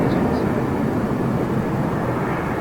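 Airbus A220 airliner of Swiss at London Heathrow, its engines producing a constant broad roar that holds evenly throughout, with no talk heard.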